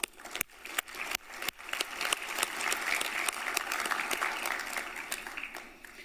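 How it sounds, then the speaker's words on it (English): Audience applause at a regional committee meeting session, a few loud separate claps at first that swell into sustained clapping across the hall, moderately distant. "Another round of applause,"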